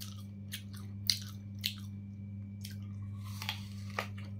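Crisp, crunchy bites and chewing of an apple up close, a handful of sharp crunches spaced unevenly with no talking.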